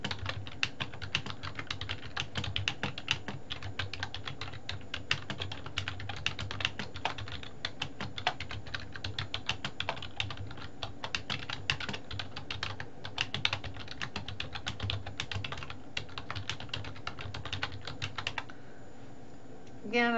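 Rapid, continuous typing on a computer keyboard, close and clicky with an even patter of keystrokes that runs on for about eighteen seconds before tapering off near the end.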